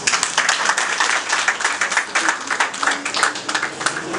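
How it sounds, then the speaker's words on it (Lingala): A crowd at a civil wedding applauds warmly for papa Marcel, dense overlapping clapping that rises and falls steadily throughout, close and lively, with no speech over it. "acclamons à papa Marcel"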